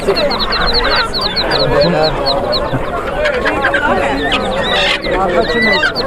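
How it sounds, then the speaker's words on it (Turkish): Many ducklings peep rapidly and continuously at a poultry market in Sabunchu, a busy high chorus of chirps, with a voice talking in the background. "Ördek balaları."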